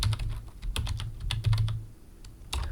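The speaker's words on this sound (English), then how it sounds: "as I'm typing this" Fingers tap rapidly on a computer keyboard close to the microphone, clicking in uneven bursts with brief pauses and a low hum underneath.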